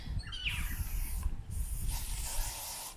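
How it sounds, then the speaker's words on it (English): An aerosol can of insect repellent sprays in short, close hissing bursts, one near the start and a longer one toward the end, with light handling clicks between. "You spray that on."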